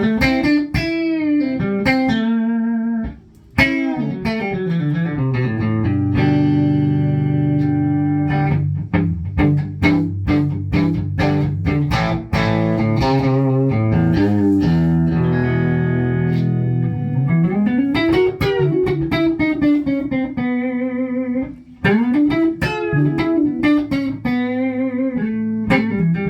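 An electric guitar runs through a Fender amp set low into a '62 Bassman cabinet with no reverb, playing a lively mix of single-note runs, bends and strummed chords, steady and close.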